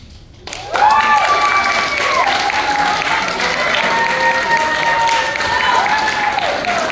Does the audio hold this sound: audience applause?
yes